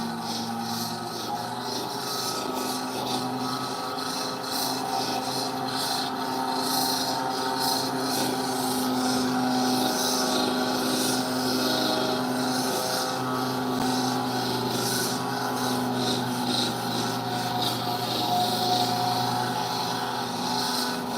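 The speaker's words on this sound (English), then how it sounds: "the machine, it's like an upside down orbital sander, basically, that's obviously wet" A wet machine like an upside-down orbital sander grinds rock, a continuous buzzing rub with steady low hum and irregular scraping bursts, close and fairly loud throughout.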